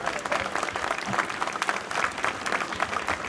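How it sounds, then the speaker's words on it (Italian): Dense audience applause fills a crowded public square, a steady wash of many hands clapping at moderate loudness without a break. "Adesso è la volta buona per l'applauso"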